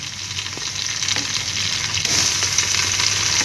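Garlic and green chilli fry in hot oil in a pan, giving a continuous, close sizzle with faint stirring scrapes.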